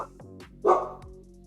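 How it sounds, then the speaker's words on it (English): A dog gives a single short bark with a faint yip just before it, close by but not loud, in an otherwise quiet room. "Dogs, man."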